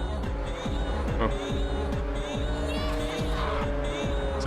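A car engine in Ridge Racer 7 roars continuously with a nitro boost, repeated gear-shift sweeps rising and dropping in quick succession, loud and close throughout.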